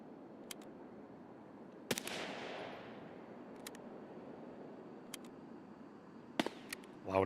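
Gunfire from an M4 rifle in the Escape From Tarkov video game, a sharp report near two seconds with a long rolling decay, followed by scattered fainter distant shots and snaps over steady ambient noise.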